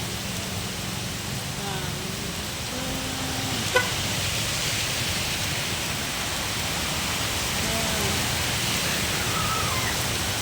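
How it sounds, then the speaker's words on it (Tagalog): Heavy rain pours down onto a city street in Paco, Manila, a dense, constant roar of water filling the whole scene, with faint traffic and a passing horn underneath. "Napakalakas ng ulan."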